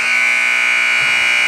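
A loud, steady electronic buzzer sounds continuously, marking the end of the third quarter at a high school boys' basketball game in a gym. The single sustained tone fills the whole moment with no talk over it.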